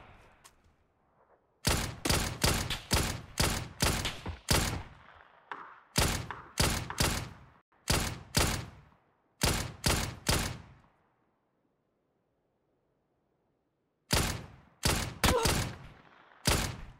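Bursts of gunfire from a bot in a shooter game, fired through trees during a one-versus-four fight: rapid, loud clusters of sharp shots in several volleys with short pauses between them, then a lull before a final burst.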